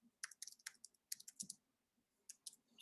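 Typing on a computer keyboard, a quick run of light clicky keystrokes in short bursts with brief pauses, close and fairly quiet, with no one speaking.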